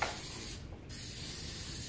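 Epoxy adhesive sprays in a steady close hiss while a 2011 Volkswagen Tiguan headliner is replaced, with one brief pause partway through and no voices.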